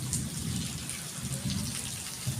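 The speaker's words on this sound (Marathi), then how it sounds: "आजचा पाऊसही तितकाच दमदार झाला आणि अजूनही आकाशात ढगांचा आवाज येतो आहे" Heavy monsoon rain falls steadily and evenly, a soft, dense hiss with a low rumble of thunder underneath, faint and distant throughout.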